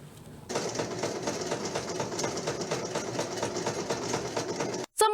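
A sewing machine starts up and runs steadily for several seconds with a fast, even mechanical whirr, then cuts off abruptly, heard close and alone.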